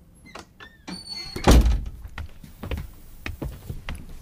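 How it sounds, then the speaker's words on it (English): A classroom door shuts with a single loud thunk, preceded by a few light clicks and rattles and followed by softer shuffling and knocking sounds in the room. "Now close the door, please."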